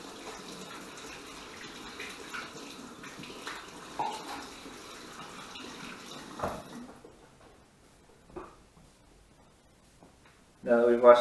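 Water running from a kitchen tap while hands are washed before preparing a cucumber salad, a soft steady stream that stops partway, followed by a brief louder splash at the end.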